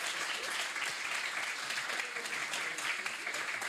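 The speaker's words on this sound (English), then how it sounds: "We would like to thank you with a round of applause" An audience at a science event gives a panel a round of applause, a steady, dense clapping of many hands throughout, fairly close and sustained without pause, with faint voices mixed in.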